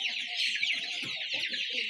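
A flock of Bahama chickens clucks and chirps close by, soft overlapping calls set against a bright, dense high-pitched chick twittering throughout.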